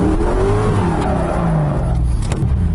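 An LS-swapped Miata runs figure eights, its V8 engine roaring loud and continuous up close while the tires squeal in long rising and falling tones.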